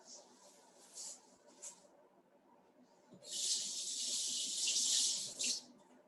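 Water runs from a sink tap as hands are washed, a steady hissing stream for a few seconds after short earlier splashes, close and moderately loud.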